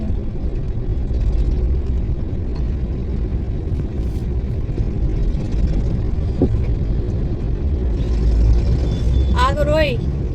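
Congested road traffic, with cars squeezing through narrow gaps, makes a continuous engine rumble and road noise close by, under people talking.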